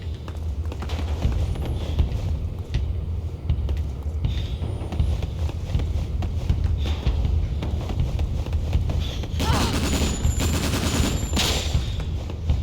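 Gunfire in the Xbox game Breakdown: a dense, sustained barrage of shots rolling through the scene, with a loud burst of rapid fire near the end, all under constant game noise.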